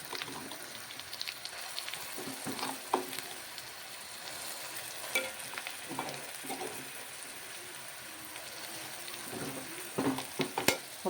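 Ground masala spices frying in oil in a pan for a boti (tripe) curry, a soft steady sizzle with scattered crackles and light stirring scrapes, close by, with no talking.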